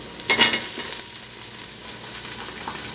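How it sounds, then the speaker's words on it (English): Chopped celery cooks in a soup pot on the stove, giving a steady, moderately loud sizzle and hiss with a brief clatter of stirring near the start and no talking. "So I want to put the celery in first to soften that up some."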